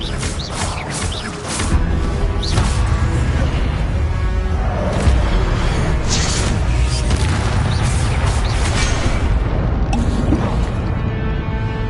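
A Confringo blasting spell explodes in Hogwarts Legacy during a Gryffindor playthrough of the Trials of Ancient Magic, a loud boom that swells into a sustained roar of battle noise with whooshes and rumbling blasts layered over it.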